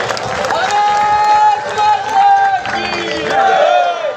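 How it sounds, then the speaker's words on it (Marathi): A crowd at a temple idol consecration ceremony breaks into steady, loud applause mixed with cheering and babble. A high, sustained tone runs through the noise. "या दादा शूर चव्हाणके साहेबांसाठी जोरदार टाळ्यांचा वर्षाव झाला पाहिजे"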